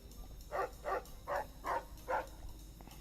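A cyber-dog barks five times in a steady, evenly spaced series, moderately close, over a low background hum with no talking.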